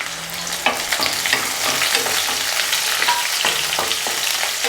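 Cubed big onions sizzle and fry in a pan for a Tamil kovakkai sambar, with a steady close crackle and irregular spatula scrapes and stirring taps throughout.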